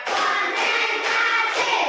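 A classroom group claps hands in a counted clap routine, four loud, evenly spaced bursts of claps about half a second apart, with many hands sounding together.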